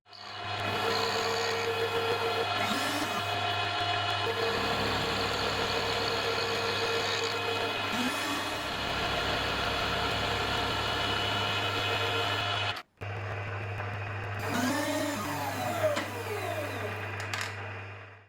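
A milling machine squares the rough sawn edges of a mild steel plate held in a two-part vise. It gives a steady droning whine with layered harmonics, broken by one short silence before it resumes.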